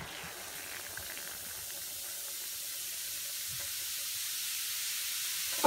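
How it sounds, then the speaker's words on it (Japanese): A Bikkura Tamago bath ball with Anpanman figures fizzes steadily in hot bath water, giving a continuous soft hiss that slowly grows louder, with no talking over it. "元気よくシュワシュワいってますね。"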